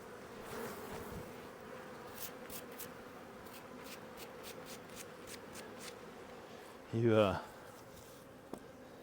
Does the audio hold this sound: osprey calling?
no